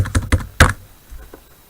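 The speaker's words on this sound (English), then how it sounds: "In this case, I'm going to type it in." Three sharp keystrokes on a computer keyboard while entering an org code into a financial report prompt, spaced evenly and close, followed by a couple of faint softer taps.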